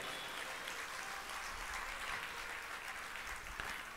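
Audience applause at a Hindi spiritual discourse, a steady wash of many hands clapping at moderate distance that keeps up evenly for the whole stretch with no voices over it.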